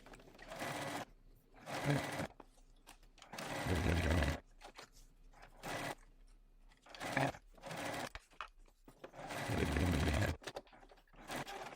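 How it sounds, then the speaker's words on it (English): A sewing machine stitches a bucket bag seam with backstitching, running in several close bursts of varying length separated by short pauses, each start and stop clearly audible. "Sew all the way down to here, pivot, fold that out of the way, and then across the top, backstitching at the beginning and the end."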